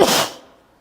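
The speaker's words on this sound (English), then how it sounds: "I'm going to sneeze." A single loud, explosive human sneeze, close and abrupt, with a sharp breathy burst that fades quickly into quiet, alone with no other talking.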